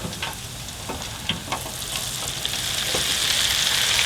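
Seasoned calamari fries in hot grease, a soft, steady sizzle with scattered sharp pops and crackles that grows a little louder and hissier toward the end.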